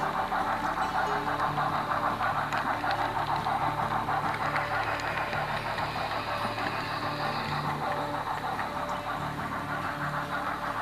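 A train swings through a rail yard past a junction tower toward a passenger station canopy, giving a steady, continuous rumble with clattering wheels and mechanical noise throughout, no voices.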